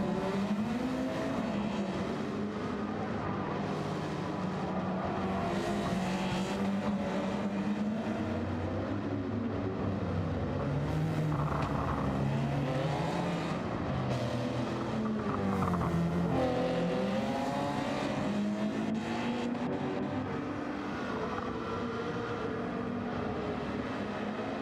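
A video game race car's 2-liter four-cylinder engine drones continuously in Gran Turismo 7, its pitch rising and falling with acceleration and gear shifts, steady and unrelenting throughout.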